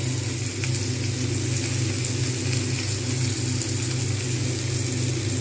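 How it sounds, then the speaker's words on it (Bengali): Paneer frying in a pan in Kolkata street-food barbecue style, a constant loud sizzle with a low steady hum beneath it, close and unbroken, with no talking. "ধীরে ধীরে সময় নিয়ে কিন্তু এইরকমভাবে এপিট ওপিট করে ভেজে নিতে হবে"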